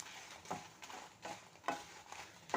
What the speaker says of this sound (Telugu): మిర్చిని బాగా వేయించుకోవాలి మనం